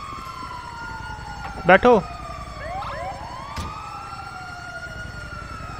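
An ambulance siren in the video game GTA 5 wails in rising and falling sweeps at moderate volume, running beneath brief shouted voices.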